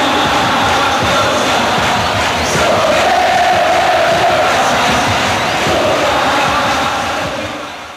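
Massive roaring crowd at a 1989 Lula presidential election rally in Brazil, a dense, continuous wall of voices and shouting that stays loud throughout before easing slightly at the end.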